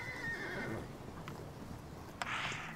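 Horses at pasture let out a loud, drawn-out whinny, followed by a few softer snorts and a brief shuffle of movement nearby.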